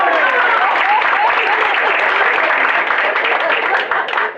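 A crowd gives loud, sustained applause with dense overlapping claps that hold steady, then start to fade in the last moment.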